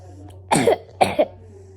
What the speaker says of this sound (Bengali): বাপরে কাশি হচ্ছে